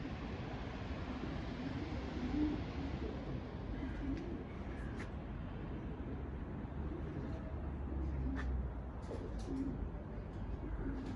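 Faint pigeon cooing comes and goes under a constant broadband outdoor hiss, with a few quiet calls spread across the stretch and a sharper tick or two near the end.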